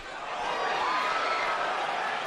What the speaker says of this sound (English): Crowd oohs and ahs as again Canelo lands the left.